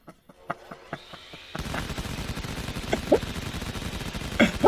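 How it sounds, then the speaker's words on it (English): Machine gun fire in the ContractVille multiplayer game, a few spaced single shots followed by a sustained rattling burst, fairly loud and close, with faint game sounds behind. "I've not heard the machine gun running for a while"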